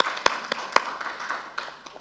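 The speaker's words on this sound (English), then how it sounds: "If we can give her a round of applause." A few scattered hand claps from a small audience at a committee stakeholder session, sparse and uneven rather than full applause, fading after about two seconds.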